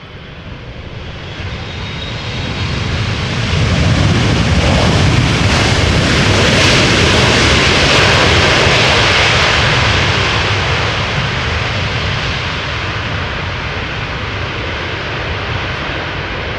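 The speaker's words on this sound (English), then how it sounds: "the thrust reversers definitely work. That is quite an enjoyment to listen to." A brand-new Boeing 777 freighter lands at Amsterdam Schiphol Airport, its thrust reversers building to a loud, sustained roar that swells and then slowly eases off; no voices are heard.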